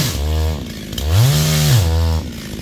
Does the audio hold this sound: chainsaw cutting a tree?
yes